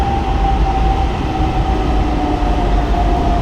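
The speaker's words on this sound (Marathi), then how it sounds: "तर हे आहे पुण्याची मेट्रो. छोटी मेट्रो आहे आपल्यापेक्षा." A Pune metro train running, heard from on board as a loud, steady rumble with a constant whining tone and no talk.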